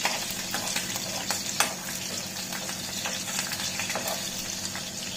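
Crushed garlic sizzling in hot oil as a tempering for an egg drop curry: a dense, steady crackle and hiss with occasional sharper pops, close and continuous.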